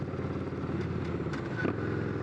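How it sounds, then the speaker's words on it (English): A Victory V92C motorcycle engine rumbles steadily at close range under engine braking, a low droning note that holds without pause for a couple of seconds. "we're gonna do some engine braking here once again"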